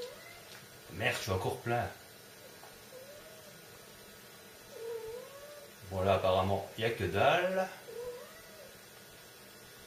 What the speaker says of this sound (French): J'ai un chat en chasse et un chat malade.